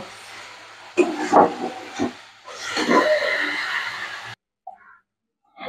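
Sizzling and hissing of prawns and onion frying in a pan for about four seconds, with clattering stirs, then a sudden drop to near silence with a few faint clinks.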